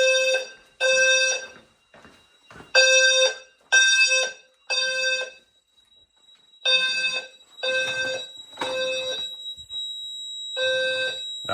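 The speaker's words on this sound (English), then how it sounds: "And that's full alarm." A fire alarm system in full alarm, tripped by fog machine haze, blares a loud pulsing horn in repeating groups of short blasts separated by brief gaps.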